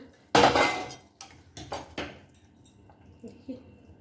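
A lid comes off a metal cooking pot of simmering potatoes for fish curry, with a loud clank followed by several lighter metallic knocks and clinks that fade over a few seconds.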